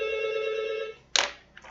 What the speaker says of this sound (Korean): 전화가 와서 잠깐만요.